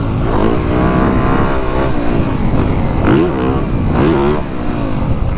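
A 2023 Yamaha YZ450 Monster Edition motocross bike revs under a rider, its engine note climbing and falling in repeated surges, loud and close.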